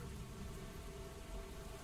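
Heavy pouring rain in a storm, a steady, dense hiss with a low rumble beneath, continuous and close with no voices.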